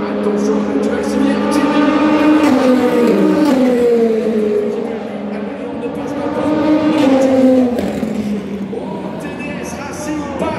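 Race cars at the 24 Hours of Le Mans Hyperpole howl past and accelerate, their engine notes rising and sweeping through pitch across two passes while a commentator talks over them.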